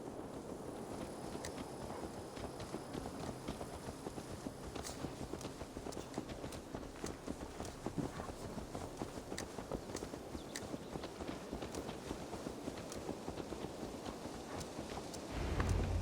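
In the Assassin's Creed Valhalla video game, horse hooves clip-clop in a steady, continuous walking rhythm, moderately close over a constant ambient background.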